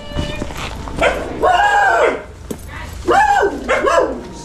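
Excited household dogs bark and yelp on arrival home, several loud close barks in two bursts with whining between, alongside some human voices.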